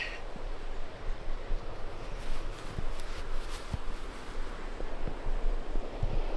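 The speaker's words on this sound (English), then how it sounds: "Ooh, that's some fast flowing water there." Fast-flowing river water along a trail at Grand Portage State Park: steady broadband rushing noise, moderately distant and fairly faint, with light wind buffeting on the microphone.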